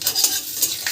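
A bay leaf and whole cumin seeds hit hot frying oil in a home kitchen, giving a brief, close crackling sizzle with a few sharper pops.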